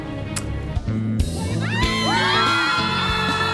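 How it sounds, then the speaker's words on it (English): A lively outdoor crowd in Midtown Manhattan whoops and cheers outside a TV studio at Rockefeller Plaza, with bursts of yelling and shouting close and loud throughout. "Look at this great crowd we have soaking up the sunshine"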